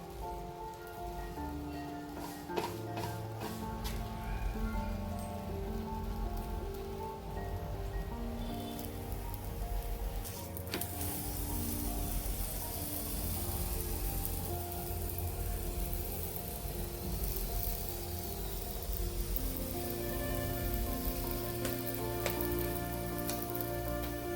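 Small besan mini parathas roasting on a hot pan, giving a steady soft sizzle and crackle like light rain that continues evenly throughout, with no talk.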